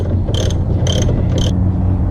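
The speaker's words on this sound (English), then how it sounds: "I'm going to attempt to do it with the ratchet" A hand ratchet clicks in three short bursts of rapid pawl clatter while loosening a tie rod on a Chrysler Concorde, over a steady low hum in the garage.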